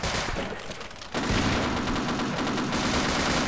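Sustained rapid turret gunfire in the video game Half-Life Sven Co-op, a loud continuous automatic burst starting about a second in after quieter ambience and running steadily to the end.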